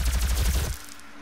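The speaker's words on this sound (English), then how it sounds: "I completely missed those shots." Rapid bursts of gunfire from DOOM (2016), a dense, loud volley of repeated shots in the first half before cutting off to a quieter tail.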